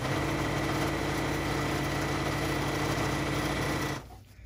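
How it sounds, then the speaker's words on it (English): A sewing machine runs steadily while stitching scrappy string quilt block pieces in quilt-as-you-go fashion, a continuous close whirring hum that stops abruptly near the end. "So I'm gonna go ahead and stitch both of these down just to see what it looks like."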